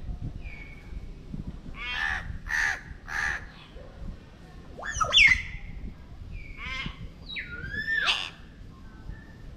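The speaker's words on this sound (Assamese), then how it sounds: "মইনা চৰাই" A myna bird calls at the Assam State Zoo in a string of harsh, squawking and whistled notes that come in short bursts, fairly close, against a low background rumble.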